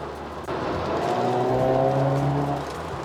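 A Hyundai Veloster N with a DCT gearbox in sport mode pulls away, its engine and exhaust rising in a steady, growling climb of pitch that holds loud and close, then eases off near the end.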